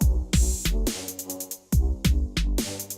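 A Roland 909 drum machine snare with plate reverb strikes in a steady groove within a grime beat, each hit trailing a bright, washy tail over sustained tonal layers.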